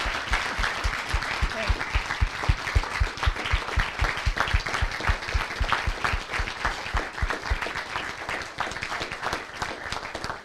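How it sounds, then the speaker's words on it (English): A crowd gives a sustained round of applause for graduates at a December graduation ceremony, thick and even throughout, with some individual claps standing out in a quick rhythm. "one more round of applause for our grads"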